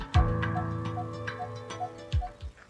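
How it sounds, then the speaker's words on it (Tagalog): Coppersmith barbet calling, a run of sharp, evenly spaced metallic pok notes about every half second, clear and fairly close, with a few louder low thumps mixed in. "Tinawag itong pukpok dahil ang huni nito ay parang panday na tumutunog ng pok pok"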